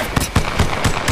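Rapid gunfire in Apex Legends Mobile, a quick run of loud, punchy shots about four per second, close and steady with no voices.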